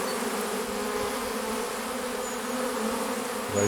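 A honeybee swarm settles onto a hive, giving a dense, continuous buzzing hum that stays close and steady throughout.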